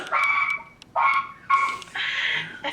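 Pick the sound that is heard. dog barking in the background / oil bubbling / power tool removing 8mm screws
dog barking in the background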